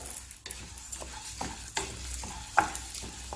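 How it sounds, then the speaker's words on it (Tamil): Moong dal dry-roasting in a pan, stirred with a spoon: quiet scraping and rattling strokes with small clicks of the dry lentils against the metal, close but soft, steady rhythm, no voices. "இதே இதில் இந்த பாசிப்பருப்பை சேர்த்து வறுத்துக்கலாம்."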